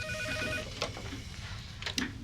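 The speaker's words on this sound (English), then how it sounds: "Then, a startling phone call." A telephone rings in a tense true-crime reenactment, its bell tone repeating in short bursts over a dense musical underscore, fairly prominent but partly blended with the background.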